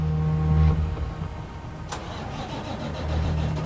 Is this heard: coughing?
no